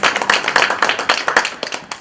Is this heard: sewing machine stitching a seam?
no